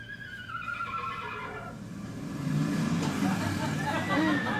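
A horse whinnies with a long, wavering neigh, followed by rumbling noise and muffled voices nearby.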